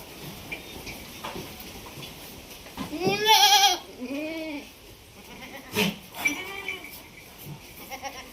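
A couple of goats bleat in wavering, nasal calls, one loud cry near the middle and another shorter one later, over a quiet outdoor background.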